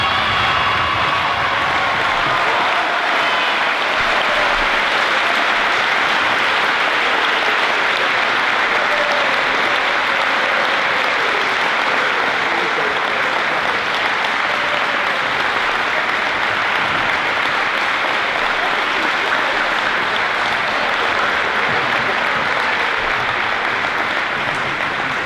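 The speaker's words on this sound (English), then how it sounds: "Connor, you deserve every clap that was made for you" Loud, sustained applause from a high school awards ceremony audience congratulating an award winner, a thick continuous wash of clapping with faint cheering mixed in, lasting throughout with no talk.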